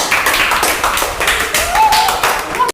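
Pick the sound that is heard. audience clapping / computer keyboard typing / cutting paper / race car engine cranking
audience clapping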